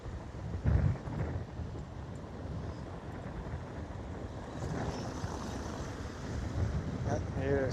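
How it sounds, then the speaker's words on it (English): Gusty evening wind in Ponta Delgada, São Miguel, Azores, buffets the microphone with low rumbling roar and bursts, steady outdoor noise, with faint voices and a bird call near the end. "Yeah, here it's windy."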